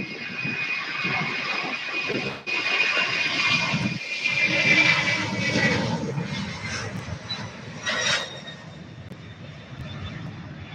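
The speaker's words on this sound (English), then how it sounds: "He's beginning his takeoff roll. Head out to Ontario, California. UPS Boeing 767-300." A UPS Boeing 767-300 jet on its takeoff roll at Louisville airport: a moderately distant roar that swells and wavers with a thin high whine riding on top, then eases off toward the end.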